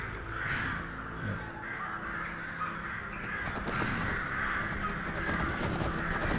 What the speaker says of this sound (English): Listen to the crows. It's like outside of Whiterun.